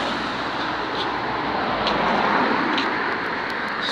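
Cars pass by on a busy street outside a primary school, producing a continuous broadband traffic roar that swells slightly midway. No one speaks over it.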